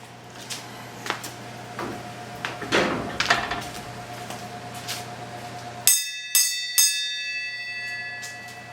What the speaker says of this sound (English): will you hustle over there and ring the bell?